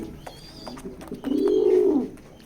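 Pigeons coo at a racing pigeon loft where pairs are kept, first in soft scattered calls and then in one louder, sustained throaty coo, close by with no talk.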